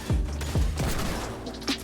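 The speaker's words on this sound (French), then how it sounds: "Mais ils mettent des balles à travers." Gunfire in an arena match of a video game: a few quick sharp shots in a short burst, loud and close, with no talking.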